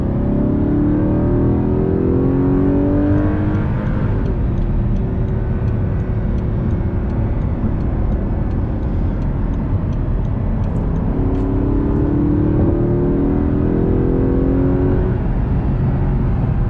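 A stock 2009 Audi R8 with its 4.2L V8 revs steadily around 4,000–4,500 RPM while driving, heard from inside the car. The engine drones loud and continuous, its pitch rising twice as it accelerates, with no voices.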